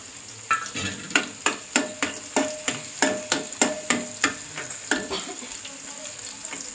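Garlic fries in hot oil on a wood-fired clay stove while a spoon stirs it, giving a steady sizzle punctuated by about a dozen sharp, regular scraping clacks close by.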